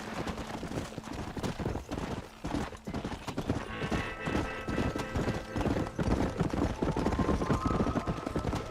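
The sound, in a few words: horse hooves clip-clopping while riding, from the video game Red Dead Redemption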